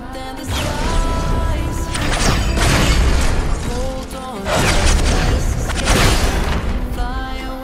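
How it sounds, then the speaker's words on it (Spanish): Gunfire in Fortnite, loud and close, with sustained bursts of shots and booming impacts that come in two long waves separated by a brief lull. "LOL, me están disparando."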